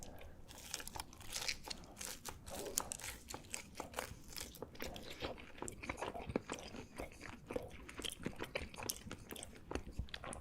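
Close, loud crunching and chewing of crispy fried shrimp with a puffy, cheese-puff-like coating, shown as rapid dense crackles that run steadily through the whole stretch with no talking.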